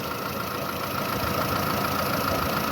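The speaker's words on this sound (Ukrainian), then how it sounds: "ось так працює двигун. Дуже тихенько" A Skoda Fabia 1.4 MPI petrol engine idles with a smooth, even hum and a faint steady ticking, heard up close for a few seconds without speech.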